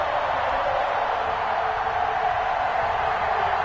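A stadium crowd in an NFL video game, Kansas City against Green Bay, makes a dense, continuous roar that stays at an even, loud level throughout.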